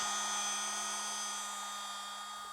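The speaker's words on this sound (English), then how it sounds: "because I'm using a rotary polisher, I have to keep the machine moving." A rotary polisher runs at slow speed, about 2500 RPM, on an electric guitar body, giving a steady, continuous motor whine with a constant pitch that fades slightly toward the end.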